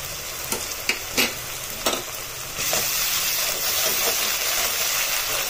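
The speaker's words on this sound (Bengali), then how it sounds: "পেঁয়াজটা এখানে ভালোভাবে ভেজে নেবো এবং পেঁয়াজ ভাজতেই আমি এখানে দিয়ে দেবো" Onions fry in a pan as ginger garlic paste is added, a few sharp scraping stirs early on before a steady, loud sizzle builds and fills the rest.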